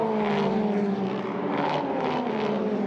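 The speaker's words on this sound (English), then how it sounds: "that 488, the first ever Ferrari Challenge car powered by a turbo engine" A turbocharged Ferrari 488 Challenge race car drives at Mugello, its engine giving a loud continuous drone with steady harmonic tones that shift slightly as it passes, with no speech over it.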